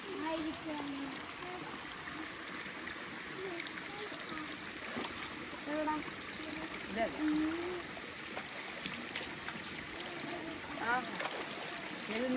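Small forest waterfall in a jungle during the rainy season, a soft continuous rush and trickle of falling water, fairly faint, with a person speaking over it at times.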